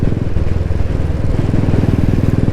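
A Royal Enfield Bullet motorcycle idles or rides nearby, its single-cylinder thump loud and steady with a rapid low pulsing beat throughout, with no talk.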